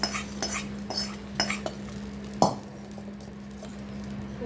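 A spoon stirs a mustard-seed tempering into carrot chutney, with a few soft scraping taps and one sharper clink against the bowl, close and fairly quiet over a faint steady hum.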